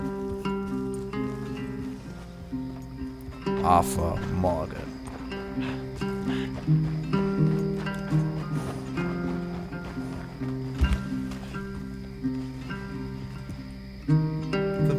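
Horse hooves in the video game Red Dead Redemption 2: a steady clip-clop of a ridden horse under music and a voice, fairly close and continuous.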